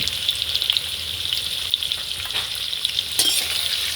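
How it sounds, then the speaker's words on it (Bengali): Chicken pieces with turmeric and salt frying in a pan, a bright continuous sizzle close up, punctuated by repeated scraping stirs of a spatula, no voices. "ভালো করে নিয়ে চেড়ে নেড়ে লাল লাল করে ভেজে নেব"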